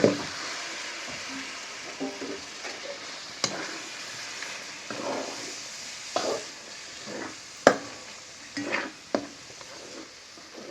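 Masala with grated coconut being stir-fried in a pan for misal: soft scraping and stirring strokes with a light sizzle, punctuated by a few sharp clinks of a spoon against the pan, close and steady, with no talk.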